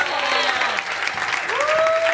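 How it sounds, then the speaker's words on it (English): A large audience applauds loudly and steadily, with whoops and cheers rising above the clapping. "Could we give a massive whoop and a cheer?"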